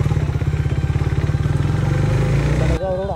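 A KTM Duke 390 motorcycle on the move, its engine close and loud with a rapid, even thumping pulse that shifts near the end as a voice briefly cuts in.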